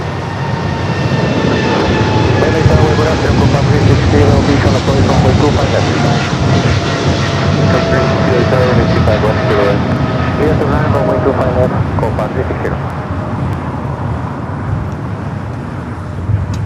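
A heavy cargo jet departing LAX, a loud continuous roar of jet engines sustained throughout at close range, with people talking over it.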